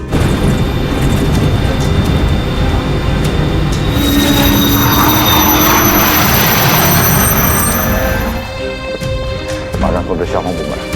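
An aircraft on a test flight makes a loud, sustained roar with high whining tones that ease off near the end, while voices talk over it.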